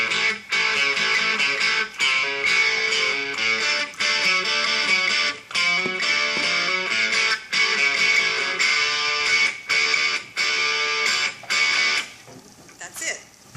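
Electric guitar plays a riff through once, loud and continuous with steady strummed chords and brief breaks, ending in a short fade with no talking.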